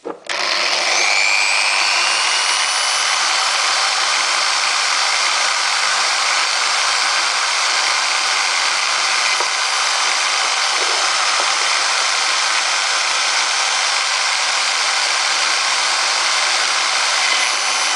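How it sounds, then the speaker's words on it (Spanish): A drill with a 5 mm bit bores through a plastic Tupperware container, a steady loud high-pitched whine that holds without a break, with no voices. "Taladramos el tupper, broca de 5 milímetros"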